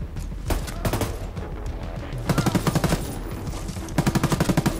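Automatic gunfire in the video game Ghost Recon Breakpoint, with rapid bursts of shots in tight rattling volleys, the clearest ones late in the clip, over a busy game soundscape and background clatter.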